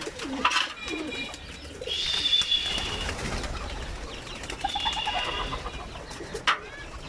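Racing and breeding pigeons gather outdoors after being bathed, giving soft, repeated throaty coos near the microphone, with brief wing flaps amid quiet outdoor ambience.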